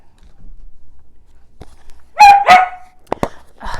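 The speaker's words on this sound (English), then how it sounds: "there goes the dogs." A few dogs bark in short, separate bursts in a quiet indoor room, clearly audible with no talk over them. Faint footsteps or bumps come before the barks and more barks follow.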